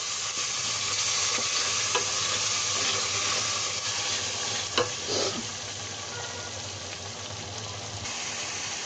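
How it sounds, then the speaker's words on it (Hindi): Masala with curd for nargisi kofta sizzling in a pan over low heat, a continuous close frying hiss with occasional scraping stirs and a brief louder clatter midway. "इसमें हम कर्ड डाल देंगे और अब हम इसको दोबारा से अच्छी तरह से फिर से इसको भूनेंगे"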